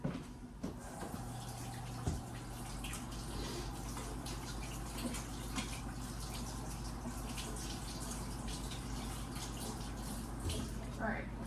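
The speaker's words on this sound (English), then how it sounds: "I'm going to go ahead and wash my hands real quick." A kitchen tap runs steadily while someone washes their hands, a faint continuous water hiss with a few soft knocks and splashes, and a voice speaks briefly now and then.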